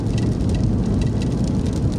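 Heavy rain pours steadily during a night motorcycle ride through the mountains of Cagayan, a loud, dense hiss with no voices over it.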